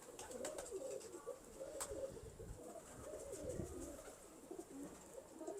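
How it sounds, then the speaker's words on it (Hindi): Soft coos of show pigeons murmur at low volume over a steady hiss of background noise, no voices present. "ज़ेब भट्ट साहब के शौक वाले कबूतर दिखाए जा रहे हैं जी।"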